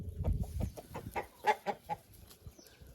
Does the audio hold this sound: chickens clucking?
yes